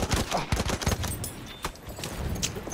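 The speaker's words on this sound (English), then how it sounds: "Machine gun!" Machine gun fire in Battlefield 1, a rattle of rapid shots in uneven bursts, loud at first and then fading into scattered single reports, with no talk over it.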